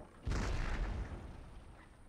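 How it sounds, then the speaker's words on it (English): Howitzers firing in Empire: Total War: a single deep, loud boom with a long rumbling tail that fades over about two seconds. "My howitzers are firing"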